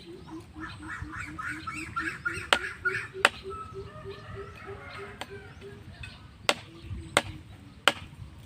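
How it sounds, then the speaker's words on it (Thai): Wire being cut for a homemade field-rat trap, a handful of sharp, isolated snips spaced a second or so apart, close by, over a bed of rhythmic duck-like quacking from nearby birds. "เดี๋ยวขอตัดลวดก่อนนะครับ นี่นะครับตัดลวด"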